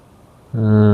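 A KSRTC bus in the game Kerala Bus Simulator starts up halfway through: a loud, steady engine drone with strong low harmonic hum rises suddenly out of quiet background and holds.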